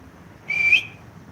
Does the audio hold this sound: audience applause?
no